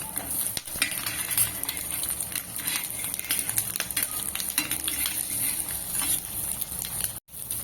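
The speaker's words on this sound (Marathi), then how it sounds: "आपल्या अंड्याची एकच बाजू आपल्याला तेलामध्ये परतून घ्यायची आहे" Eggs fry in oil on a tawa for street-style anda tawa masala, a steady close sizzle and crackle with occasional light scraping of a utensil against the pan, no talk.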